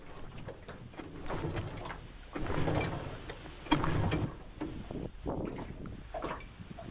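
An outboard motor on a 14-foot aluminum boat being pull-started, with repeated rasping cord pulls and mechanical rattling over steady outdoor background noise, the engine not catching.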